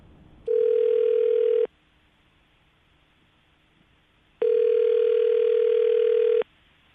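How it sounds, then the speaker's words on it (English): Steady telephone dial tone heard in two long bursts about a second and two seconds long, separated by a quiet gap, loud and close, as a call is placed from a morning radio show studio, with no talk over it. "I'm going to call her right now, get her on the phone"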